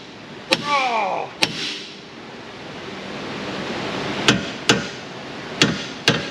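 Six sharp metallic hammer blows strike a tie rod on a 1994-2004 Ford Mustang GT 4.6 in a garage, spaced irregularly with a ringing tail after the first, over a steady background hiss.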